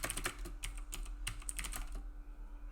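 Rapid clattering keystrokes on a computer keyboard, close and fairly quiet, in an irregular burst lasting about two seconds before stopping.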